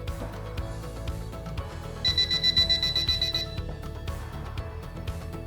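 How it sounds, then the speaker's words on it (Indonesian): A high-pitched electronic high-temperature alarm from a DJMed thermometer beeps in a rapid string of pulses for about a second and a half, then stops, over a faint background hum. "hasilnya high, sehingga alarm berbunyi"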